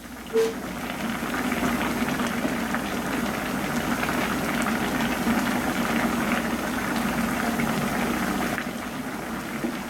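A pot of spicy sujebi soup simmers on the stove with a steady, soft bubbling hiss, close and continuous for the whole stretch, with no voices.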